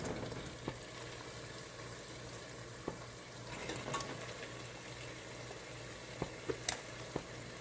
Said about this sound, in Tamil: இப்போ இந்த வாத்துக்கறியை நாம் நல்லா மிக்ஸ் பண்ணிடலாம்